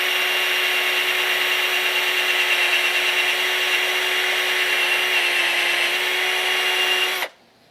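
A power buffer polishing a car headlight runs as a steady, loud high-pitched whine for about seven seconds, then cuts off abruptly into near silence.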